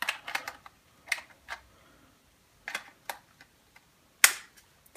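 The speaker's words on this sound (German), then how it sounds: "Und das ist der Akku. So, klicken wir mal rein" A Panasonic W570 camera has its battery pushed into place, giving a handful of sharp plastic clicks and taps at close range with short silent gaps between them.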